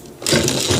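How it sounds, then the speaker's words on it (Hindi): A sewing machine starts stitching a pant belt, a close, loud whirring buzz kicking in abruptly after a brief quiet moment and running steadily. "इसको इस तरीके से इसके ऊपर सिलाई लगाना है"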